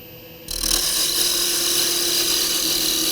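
Kitchen scoop spinning on a wood lathe as a Bedan tool bites in after a quiet start, then a steady, loud, bright rasping cut that continues without a break.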